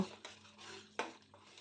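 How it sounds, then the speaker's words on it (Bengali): Tomato puree being stirred and sautéed in a pan for a matar paneer masala, with soft scraping and a few sharp clinks of the utensil against the pan, quiet and close. "টমেটো পিউরি দেওয়ার পর এটাকে বেশ ভালো করে নাড়াচাড়া করে কষিয়ে নেব"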